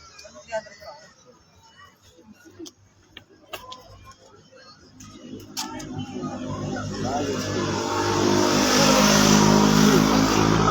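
A car approaches on a road, its engine noise swelling steadily from faint to loud over several seconds, while scattered voices and ticking sounds come earlier.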